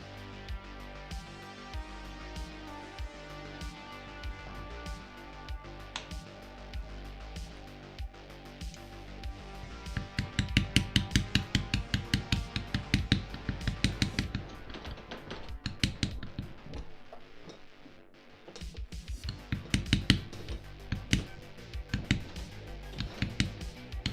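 A beveling tool is struck with a mallet along wet leather for a knotwork-carved vambrace, giving fast, steady runs of sharp taps that grow louder and denser partway through, with short pauses and a low hum underneath.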